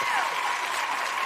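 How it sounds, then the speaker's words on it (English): An audience claps steadily at a political candidate event, with dense, even applause. "It's the clapping for me."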